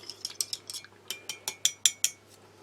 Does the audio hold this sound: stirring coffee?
yes